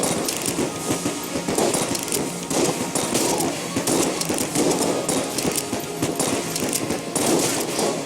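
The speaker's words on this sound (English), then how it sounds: "we're going to take our trusty flare gun" Dense rapid gunfire from the flare gun and other weapons in the bullet-hell game Enter the Gungeon, with constant loud crackling shots and impacts layered over game music and no pauses.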